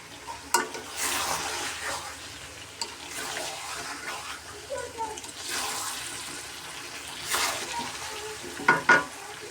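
Meat being slowly sautéed as kosha in a pan, with milk heating nearby: a low sizzle under repeated bursts of spatula stirring and scraping, with a few sharp knocks near the end.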